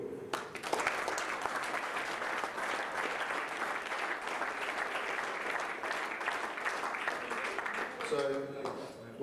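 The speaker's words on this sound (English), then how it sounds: "First of all, a big round of applause." An audience at a world championship darts final gives a sustained round of loud, dense clapping that fills the hall almost unbroken before tapering off near the end.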